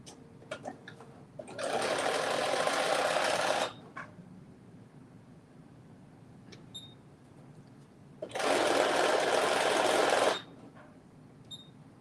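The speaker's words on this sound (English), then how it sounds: "last part is to stitch the top of the pocket" A sewing machine stitches across the top of a pocket in two steady bursts of about two seconds each, separated by a quieter pause with faint handling clicks.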